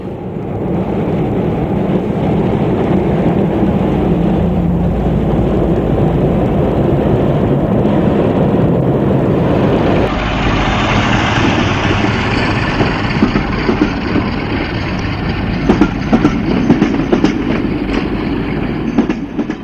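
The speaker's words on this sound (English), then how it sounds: "45108 with an early morning exit to Paignton in June 1983" Class 45 Peak diesel locomotive 45108 pulls out of Torquay toward Paignton, its engine a loud, steady roar throughout with rolling wheel and rail noise, growing harsher partway through as it gets under way.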